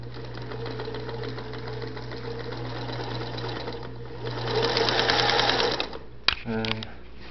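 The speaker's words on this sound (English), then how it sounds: "I'll just put a piece of fabric under, and you can see it run through the machine" A 1951 Singer 221 Featherweight sewing machine runs with fabric fed under the needle, a steady close mechanical whirring that speeds up briefly, then stops with a clunk and a short voiced sound at the end.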